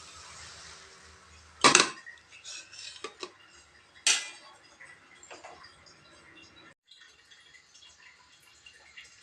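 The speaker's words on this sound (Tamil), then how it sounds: "தோசை வெந்துடுச்சுங்க, எடுத்துடலாம்." A cooked wheat flour and egg dosa is lifted off the pan, with two sharp metallic scrapes of a spatula against the pan, lighter clinks in between, then quiet.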